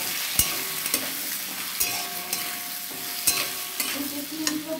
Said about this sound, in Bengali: আলু দিয়ে আমি একটু ভাজবো, আর লাল লাল করে আলুগুলোকে ভেজে নেব।